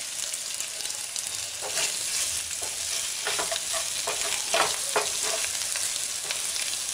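Chicken pieces fry in a pan after chopped coriander is tipped in, giving a steady close sizzle broken by scattered scraping and stirring clicks from a spoon.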